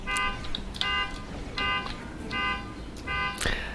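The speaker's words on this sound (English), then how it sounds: "car alarms going off" Car alarm going off in a suburban neighbourhood, sounding in repeated bursts of a steady electronic tone with short gaps, fairly close and loud over background noise.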